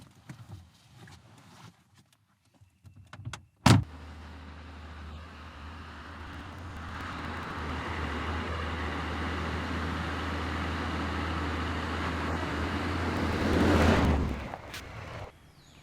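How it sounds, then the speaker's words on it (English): A well drilling truck pulls up on rural homestead land, a loud sustained engine drone with a low steady rumble that swells near the end and then cuts off, after a sharp bang at the start. "I think I see the truck coming around the bend now"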